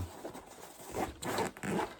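A zipper on a handmade post-apocalyptic drop leg pouch is drawn open and shut in a few quick close-up rasping pulls, loud and clear with no speech.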